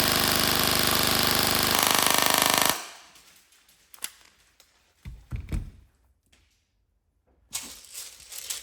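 A CYMA MP5K PDW airsoft electric gun fires a loud, dense full-auto burst for nearly three seconds, close up, then stops abruptly, leaving a few faint clicks and handling knocks.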